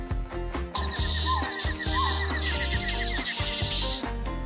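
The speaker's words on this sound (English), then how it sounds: "H for horse. Horse." A horse gives two rising whinnies over loud, steady background music, with a faint clip-clop feel and no talking.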